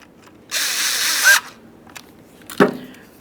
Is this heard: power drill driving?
yes